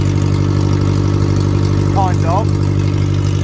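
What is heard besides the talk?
1998 Suzuki Vitara engine running loud without exhaust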